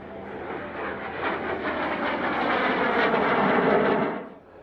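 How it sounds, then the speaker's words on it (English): Cessna A-37B Dragonfly jet with its canopy up making a pass at an air show, a loud roaring rush of engine noise swelling over a few seconds and then fading as it goes by. "Another lovely pass here. Canopy up from the Cessna Dragonfly."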